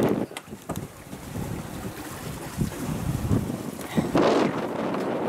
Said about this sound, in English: we were completely under sail, we didn't have the engines on